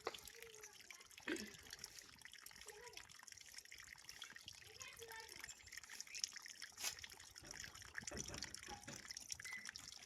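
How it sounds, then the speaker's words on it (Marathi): Tap water trickles and splashes faintly while wambat fish are washed in a home kitchen, with small drips and gushes. Some soft voices can be heard in the background. "तर वांबट बिंबट धुवून बिवून घेते ना."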